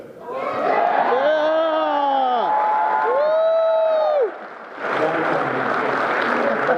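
An audience at a MAGFest 2014 convention panel whoops and cheers loudly. Drawn-out rising and falling shouts sit over a crowd roar, then a brief lull comes before a burst of mixed cheering and clapping.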